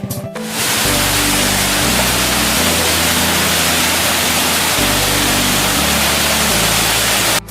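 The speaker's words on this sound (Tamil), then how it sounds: "இங்கே ஒரு அருவி இருக்கு" A waterfall beside an off-road riding trail near the Marunthukottai viewpoint gives a loud, steady rushing roar throughout, with a low rumble underneath.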